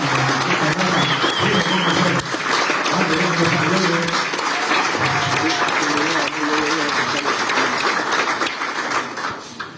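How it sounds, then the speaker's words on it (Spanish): Loud, sustained applause from a large indoor crowd welcoming a parliamentary delegation from Santa Cruz, Bolivia, steady clapping with a few voices mixed in throughout. "ayúdenme también a recibir con un fuerte aplauso a una bancada cruceña"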